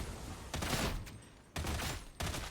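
An autogun fires in the video game Darktide in three rapid automatic bursts separated by short pauses. The shots sound dense and rattling at moderate loudness.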